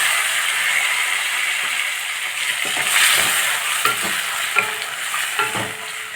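Cumin and tomatoes frying for rajma biryani, heard as a loud, steady hiss of hot oil with a spoon scraping and clacking against the pan through the second half, with no talk.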